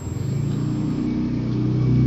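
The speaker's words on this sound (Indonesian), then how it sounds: "Motor lewat." A motorcycle engine drones steadily as it passes by, its low hum rising slightly in pitch and loudness, close and continuous with no talk.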